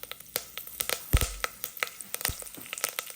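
Tadka crackling in hot peanut oil for mooli sambar, with asafoetida in the pan: a close, lively run of sharp pops and spits over a soft sizzle, with one louder burst near the middle.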